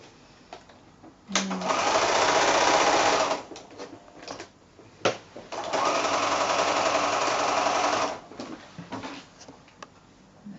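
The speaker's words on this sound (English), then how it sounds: "So back to the machine and sew this across." A sewing machine stitches quilt fabric squares in two sustained runs of steady, close whirring with a short break between, followed by quieter handling noises.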